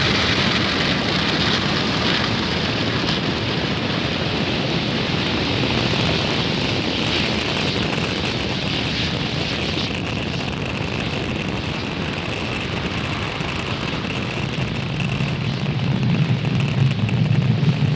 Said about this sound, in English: Falcon 9 has successfully lifted off from Space Launch Complex 40, carrying the Astra 1P satellite.